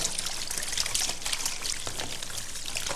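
Water poured little by little into raw pork being mixed for crispy fried pork strips, a continuous close trickling and pouring sound with no talk.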